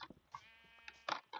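Sheep in a farming simulator game letting out a drawn-out, quavering bleat, close and fairly quiet, with short clicks and thumps before and after it.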